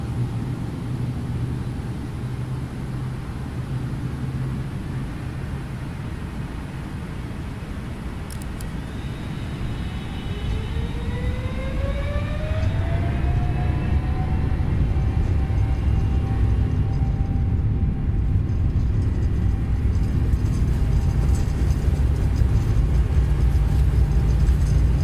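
Engines of a Flight Factor Boeing 777F in X-Plane 12 spooling up for takeoff, a steady roar with a rising whine that climbs over several seconds and then grows into a louder, sustained drone.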